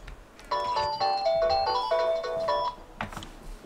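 A loud phone ringtone plays a bright melodic pattern of repeated electronic tones for a couple of seconds, then stops, leaving faint background noise.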